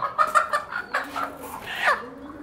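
Chickens cluck and squawk close by in quick, irregular calls as they are released, loud and lively over a brief moment.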